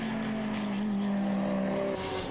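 GT race cars at the Mugello circuit in a V de V 2015 race scream past with a steady, loud high-revving engine drone that shifts pitch as they pass.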